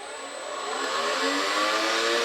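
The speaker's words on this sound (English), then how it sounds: "To operate the tiller, it's pretty simple. You have to press this button down first," A Masterforce 80-volt cordless brushless tiller runs with a close, steady electric whir that swells slightly as it gets going and holds level, with no voices over it.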